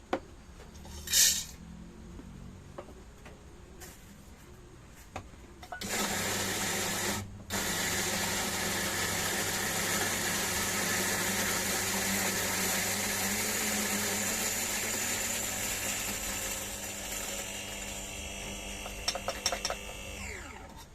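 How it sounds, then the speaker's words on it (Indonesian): An electric grinder grinds 18 grams of coffee beans, a loud, steady mechanical whir with a droning hum that runs for about eleven seconds after a few faint clicks and handling sounds, with no talking. "Kita langsung giling dulu. Ini 18 gram"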